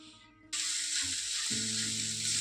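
Spinach soup ingredients sautéing in a heavy-bottomed pot, a sudden loud hiss of sizzling that erupts and holds steady, close up, with faint low hum underneath.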